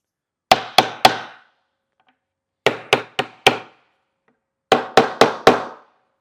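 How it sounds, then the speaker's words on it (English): Three groups of three sharp wooden taps from a hammer block tapping a cajón panel into place, each group a quick evenly spaced series with short pauses between, crisp and close with no talking. "I'm going to lay my hammer block over the top and tap it in"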